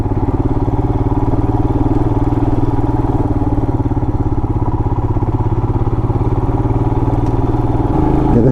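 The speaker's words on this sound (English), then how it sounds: "the Himalayan just chugs along" A 2020 Royal Enfield Himalayan on knobby tires rides off road over bumpy, rocky trail. Its engine chugs loudly and close in a steady, even beat with light clatter, easing slightly at the very end.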